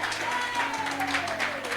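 Church congregation applauding, a soft, even patter of clapping heard at some distance, with a sustained sung or spoken tone running beneath it.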